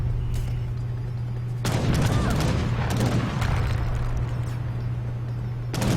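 Cannon and musket fire rattle through an Age of Empires III battle, a dense crackling fusillade of overlapping shots with booming impacts over a steady low hum, running almost continuously.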